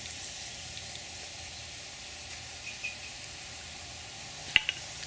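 Pork cracklings (chicharrón) fry in a pan with a faint continuous sizzle, broken by a few sharp pops and crackles, the strongest near the end, no voices.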